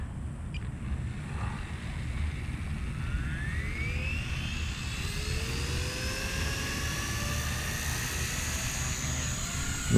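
A Blade 150S RC helicopter hovers just after takeoff outdoors, its small rotor and motor giving a steady high whine that drifts up and down in pitch, fairly faint over a constant background hiss.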